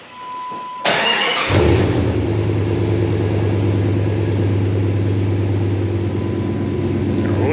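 Cold start of a Jeep Grand Cherokee ZJ with a 5.2 V8 and Autosaver 88 slip-on exhaust: a starter crank catches into a loud, close burst, then settles into a steady deep rumbling idle, alone.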